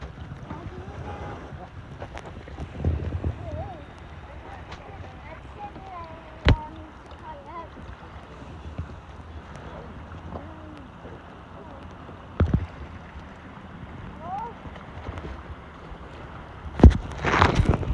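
A Pelican Angler 100 kayak moves through deep green water near an island, giving soft, steady water swishes under wind noise, with a few brief knocks and splashes.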